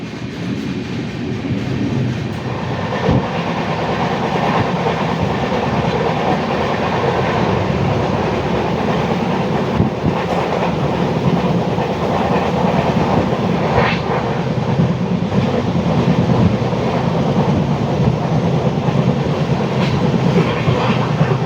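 A Kollam to Coimbatore passenger train rumbles steadily along the rails, a continuous loud roar with faint rhythmic clatter from the wheels throughout.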